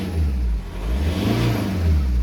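A diesel Volkswagen Jetta revving at a dealer car auction, a loud close engine roar that rises and falls in pitch over about two seconds.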